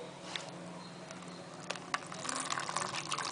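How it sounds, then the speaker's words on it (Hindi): Cold water pours steadily over freshly cooked sabudana being strained, a soft continuous splashing wash that swells slightly louder toward the end, with no talking. "अब हम इसे जब स्ट्रेन करेंगे ना तो साथ साथ में ठंडा पानी भी डालेंगे"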